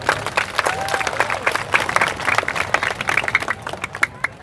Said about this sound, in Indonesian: Tepuk tangan untuk BTV.